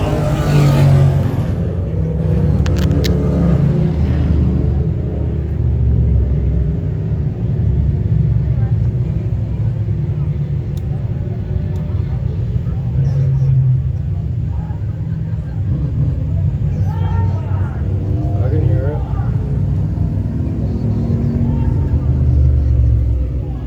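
Race cars on a speedway track during a heat, a 35 machine among them, rumble and rev in a steady low roar that swells and fades, with an announcer talking throughout.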